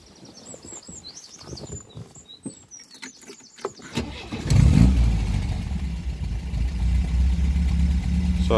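MG MGB Roadster engine cranking and firing up outdoors with birds chirping beforehand, then settling into a steady, fairly loud idle with a low rumbling throb.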